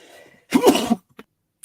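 A single sharp, explosive sneeze bursts out, loud and close, followed by a couple of faint small noises afterward.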